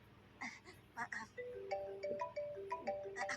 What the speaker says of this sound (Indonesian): Aku angkat telepon dulu ya